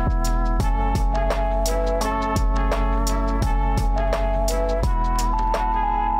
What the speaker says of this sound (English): Here's the trumpet part.